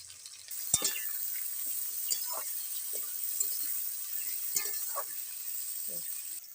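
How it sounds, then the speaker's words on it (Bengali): Drumstick, green banana and potato fry in hot oil with dry chilli and five-spice for shukto, a steady faint sizzle under scattered scraping stirs and light clinks of the spatula. "সব কিছু আমি ভালোভাবে ভেজে নেব"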